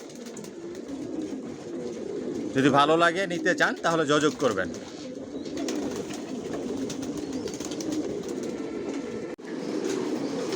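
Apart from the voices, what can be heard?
racing pigeons (Johnson racer line) cooing in a loft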